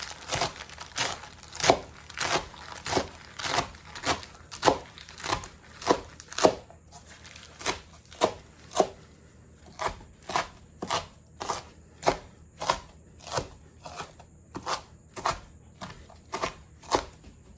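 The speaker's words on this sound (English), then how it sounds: "For the leaves, I also chop them by hand." Pak choi leaves chopped by hand with a knife on a board for fermenting, a long series of crisp, evenly spaced chops, close and clear with brief pauses, no talking.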